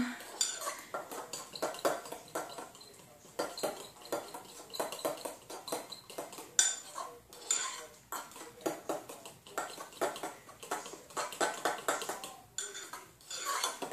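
A spoon clinks and scrapes steadily against the inside of a mug while stirring a loaded potato soup mixture, rhythmic stirring that carries on for several seconds.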